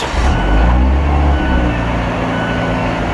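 A Fiat 124 Abarth Spider's engine fires up with a loud low-pitched burst that settles into a steady, rumbling idle, heard close and alone without talk.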